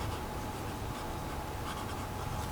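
Writing on a page, a soft continuous scratch of pen or pencil on paper, faint and close throughout with no speech.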